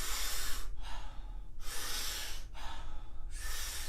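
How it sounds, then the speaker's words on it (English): Wim Hof power breathing: deep, forceful inhales alternate with softer exhales in a steady rhythm, four close airy breaths with short pauses between them. "one of our favorite breathing exercises right now called the Wim Hof breath"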